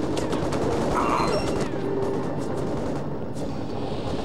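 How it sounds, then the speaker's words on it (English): Gunfire in the Mercenaries video game rattles through a loud, continuous wash of explosions and destruction, with scattered sharp shot transients over steady heavy rumble. "These guys are shooting at me for some reason."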